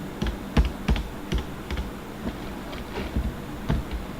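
Computer keyboard keys are tapped in short irregular bursts while a stop-loss number is entered into trading software, close and crisp clicks with brief pauses, no voices.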